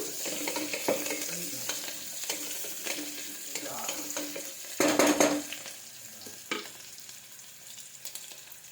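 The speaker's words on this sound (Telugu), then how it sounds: "ఇవి కొంచెం వేయించాలండి. లైట్గా అట్లా కొంచెం ఆయిల్లో వేస్తే టేస్ట్ బాగుంటుంది." Vegetables frying lightly in hot oil for a tomato pulusu, with a steady close sizzle, occasional stirring scrapes and one louder burst of crackle midway.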